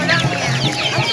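Free-range village chickens cluck at the Sumpiuh market in Banyumas. Several short, loud, close clucks and murmurs overlap in busy succession, with faint market bustle behind.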